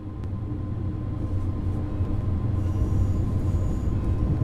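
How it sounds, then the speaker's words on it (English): A Siemens third-generation ICE 3 intercity express train runs in Train Sim World 2, with a steady loud low rumble of wheels and traction that builds slightly over the clip, with no voices. "This particular train is a third-generation intercity express built by Siemens in Germany for international operations"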